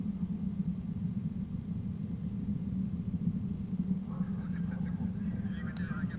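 A Proton rocket carrying the Inmarsat 5 F2 satellite climbing after launch over the Cosmodrome, a steady deep rumble that holds throughout, with faint higher crackles near the end.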